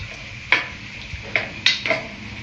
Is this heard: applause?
no